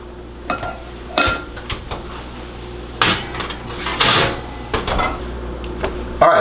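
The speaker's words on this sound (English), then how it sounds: "Go ahead and slide those into the oven for us" A baking tray of croutons being slid into an oven in a home kitchen, with close metallic clanks, scrapes and a couple of louder knocks as the rack and door move, with no talking.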